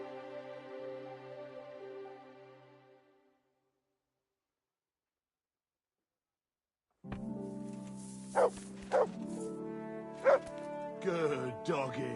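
In the video game Kingdom Come Deliverance 2, a dog barks several times in short sharp yips over a music bed, after a stretch of silence.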